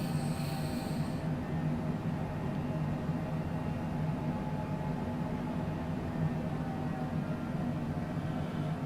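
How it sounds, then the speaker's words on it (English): Jet engines of a Cessna Citation Longitude in Microsoft Flight Simulator 2020, a steady broadband whine and drone with a faint high tone fading early on, constant and moderately quiet, with no voices. "I hear the engines turning up and down all the time"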